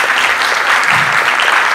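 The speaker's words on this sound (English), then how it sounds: "Executive Committee, please a round of applause." Audience applause for an event's executive committee, a dense, steady clapping from a full room that holds at an even level throughout.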